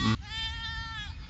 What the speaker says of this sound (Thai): พี่ชีพเดี๋ยวจะได้ไปต้อนแพะ ไปไกลโน่นแล้ว